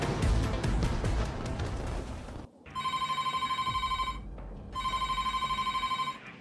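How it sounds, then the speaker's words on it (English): A red telephone rings in the Broken Arrow military strategy game after a stretch of battle noise: two long electronic trilling bursts with a short silent gap between them, clear and prominent. "The red phone."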